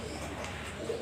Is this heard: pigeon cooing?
yes